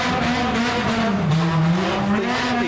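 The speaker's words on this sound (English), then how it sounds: "we've suddenly had a huge influx of cars departing" Several JDM cars accelerate hard away from a car meet, with loud, close engines climbing through the gears and some tire squeal filling the whole stretch.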